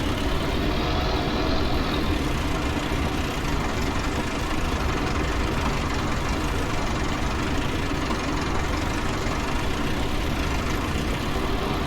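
A Ferguson farm tractor engine idles steadily at close range, a loud, even diesel rumble with a knocking beat that carries on unbroken for the whole stretch, with no talking.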